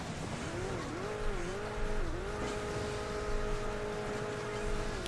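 A car drives in the mobile racing game Hill Climb Racing 2, its engine tone droning steadily and rising and dipping in pitch as it revs over uneven ground, with faint skidding noise and no speech.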